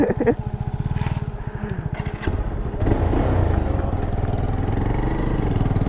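Pulsar 220F and MT15 motorcycles in a drag race, the exhaust silencer leaking, engines idling then revving hard with a loud, steady, rough drone that swells and holds close by, with no speech.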